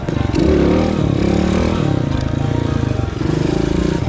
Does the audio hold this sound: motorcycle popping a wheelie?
yes